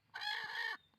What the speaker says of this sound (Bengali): এখানে ডিমে উঠে আছে শুধু একটা মুরগি